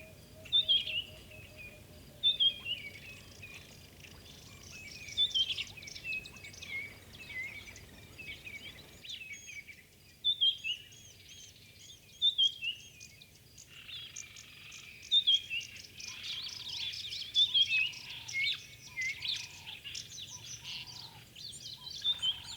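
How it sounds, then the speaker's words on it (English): Dawn chorus in the African bush: repeated bright, chirping bird calls come and go over a steady hum of insects and a low, distant rumble, with songs swelling again toward the end and no one speaking. "there's beautiful bird sounds all around"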